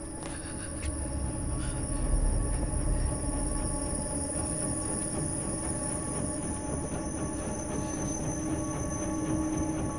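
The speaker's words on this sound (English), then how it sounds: "Another people train, yay! People trains are the best." A passenger train in the video game Inside rumbles past continuously with a steady low roar and faint wheel squeal, filling the whole stretch at an even, fairly loud level.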